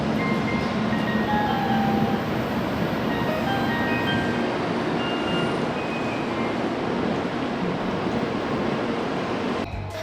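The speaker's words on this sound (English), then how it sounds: "board a bullet train to go to Kyoto" Steady loud rumble of a Japanese bullet train running between Tokyo and Kyoto, a continuous rail roar with wind-like hiss filling the cabin throughout, no voices.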